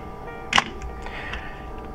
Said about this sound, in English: and then you activate the shutter